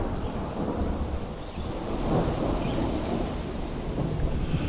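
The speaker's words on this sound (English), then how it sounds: "It's more the thunder and lightning." Thunder rolls through a thunderstorm in a deep, sustained rumble that swells and fades over steady rain hiss, moderately loud and with no voices over it.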